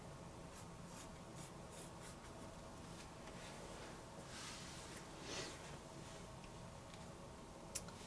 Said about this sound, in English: now we're going to draw some ears